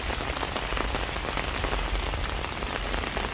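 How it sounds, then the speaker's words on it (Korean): Heavy autumn rain pours onto a flower garden, a dense, steady hiss of drops hitting plants and surfaces up close, with no voices. "비가 점점 많이 오고 있네요. 엄청 많이 오고 있어요, 비가."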